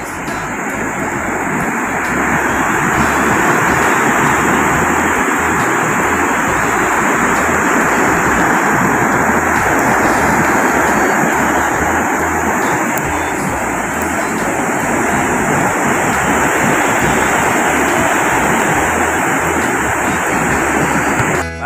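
Big waves crashing in stormy typhoon weather on the coast at Gingoog City in Mindanao during heavy rain, a loud, continuous roar of surf that fills the clip with no talk.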